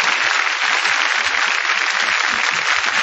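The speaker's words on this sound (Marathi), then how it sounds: "मला वाटतं एकदा जोरदार टाळ्या या दोघांसाठी झाल्याच पाहिजे." A live audience claps loudly and continuously for two performers at a Marathi song show. The applause is dense and sustained throughout, with no talk over it.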